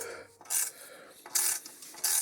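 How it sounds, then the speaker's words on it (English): Quiet, close ratcheting clicks during the build of a Titanic model kit, arriving in three short bursts with brief pauses between them. "Now I think we can start the ratcheting process here."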